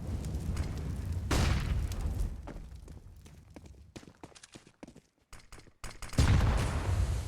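Grenade stacks explode on the Inferno map in a CS:GO match: a sudden deep boom, then scattered cracks and pops, and a second heavy blast near the end, moderately loud.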